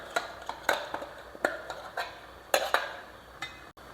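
Ground paste stirred into cooked tapioca and beans in a pot, giving a series of sharp scattered clinks and scrapes of a utensil against the metal pot, irregular and fairly quiet, with no talking.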